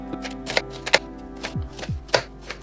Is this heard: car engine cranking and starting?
no